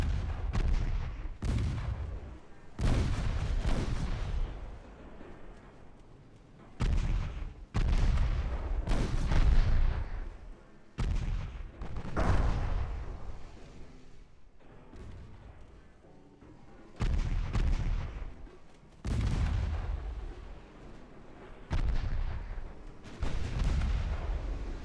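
Heavy warship guns fire across a naval battle in Ultimate Admiral Dreadnoughts, with booming salvos repeating every couple of seconds, each blast decaying into a rumbling tail, loud and without speech.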